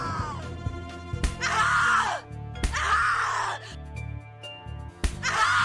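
A woman in The Cat Lady video game lets out long, loud, anguished screams and groans, repeated several times over a low droning music bed.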